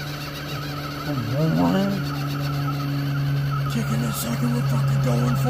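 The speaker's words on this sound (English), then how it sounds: "You can hear in the background Tim just doing constant burnouts, trying to get up this other face here" Off-road rock crawler on a cold day at Taylors Falls, spinning its tires in constant burnouts up a rock face: a steady engine drone with rising and falling tire squeals and whines, close and continuous.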